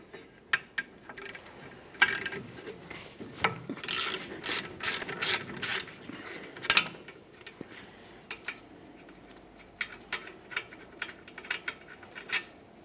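Ratchet wrench clicking in quick bursts as it removes an 18mm caliper bracket mounting bolt on a 1999-2006 Chevrolet Silverado 1500, close and fairly quiet, with short pauses between runs of clicks.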